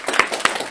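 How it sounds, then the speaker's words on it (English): Brief burst of applause and clapping from an audience at a game jam showcase, a few distinct claps standing out over a dense patter. "Everyone give a round of applause."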